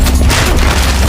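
A loud, booming gunshot from an action film lands hard and fills the moment with a dense, low, reverberant blast that stays heavy to the end.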